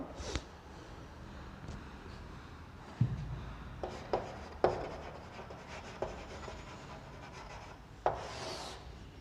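Chalk or marker writing a tabular column on a board during a biology lesson: soft scratchy rubbing strokes with several sharp taps and knocks spaced irregularly, close and fairly quiet with no talk.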